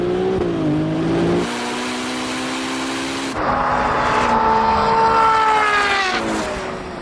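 A Ferrari 296 accelerates hard after launching in a drag race on a runway. Its engine roars loudly and rises in pitch, with upshifts marked by sharp drops in revs and about three climbing pulls.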